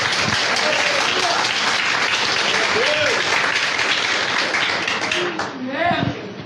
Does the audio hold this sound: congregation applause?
yes